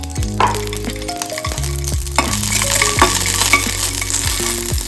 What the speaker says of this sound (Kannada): ಇವಾಗ ಒಂದು 5 ಮೆಣಸಿನ್ಕಾಯಿ ಹುರ್ಕೊತಾ ಇದ್ದೀನಿ. ಒಂದು ಅರ್ಧ ಸ್ಪೂನ್ ಎಣ್ಣೆ ಹಾಕ್ಕೊಳ್ಳಿ.